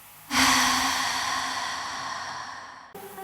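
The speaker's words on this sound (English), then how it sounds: "We also have this breathing effect as well." A sharp breathy inhale-like effect in a dance music remix, starting abruptly and sustaining as a bright airy noise for about two and a half seconds before cutting off, alone with no talk.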